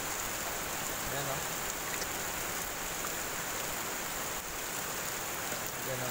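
Heavy rain drums down in a thick continuous hiss close by, with a faint voice briefly murmuring beneath the steady downpour.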